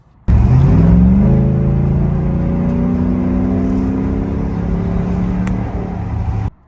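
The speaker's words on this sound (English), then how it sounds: "I took the truck on what I normally call like a last drive test." A Ram pickup truck drives off and accelerates, with a loud, steady engine drone rising in pitch as it gathers speed and then holding high for several seconds before ending abruptly.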